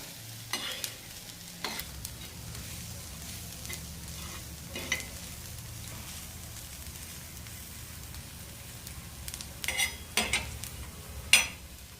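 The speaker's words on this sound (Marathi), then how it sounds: "आपल्याला असं बारीक गॅसवर परतून घ्यायची" Mung bean chutney being stir-fried over a low gas flame, with steady soft sizzling and intermittent scraping and clinking of the spatula against the pan, close and alone without talk.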